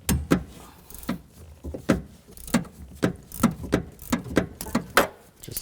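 Ratchet loosening a rear shock absorber bolt on a 2014-18 Nissan Sentra, a close run of sharp metallic clicks in uneven bursts, about a dozen strokes, with no talking.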